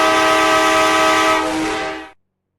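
A train horn blares loudly in the mobile game Indian Bike Driving 3D as the train tries to start, a sustained harmonic tone that cuts off abruptly into silence after about two seconds.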